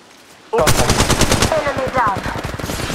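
Automatic weapon fire in the mobile battle royale game Apex Legends Mobile: after a brief quiet start, loud rapid bursts of shots ring out continuously, with a faint in-game voice callout mixed beneath.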